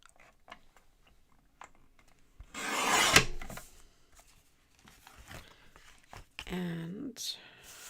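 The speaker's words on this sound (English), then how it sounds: "let me trim the card this way" A craft card is cut on a paper trimmer: a single rasping slide of the blade, quiet scrapes before it and a short voice near the end, all close and soft.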